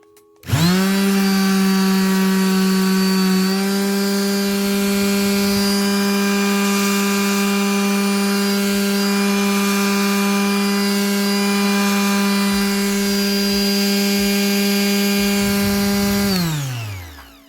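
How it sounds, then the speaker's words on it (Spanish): A Bosch PSM 100A orbital sander whirs at a steady, loud pitch on wood after a quick start, running without pause before winding down at the end. "si nosotros pasamos la lijadora sin apretar, vemos que absorbe todo el serrín"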